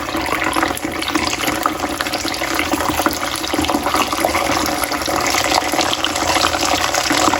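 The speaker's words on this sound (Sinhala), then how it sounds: "ඒකට අපි කරන්න ඕනේ වතුර චුට්ටක් අරගෙන තෙල් එකට මේ වගේ ඉහින්න." Hot herbal hair oil with a small splash of water sprinkled in gives off a steady, loud sizzle and crackle that fills the whole stretch without a break, and no voices are heard.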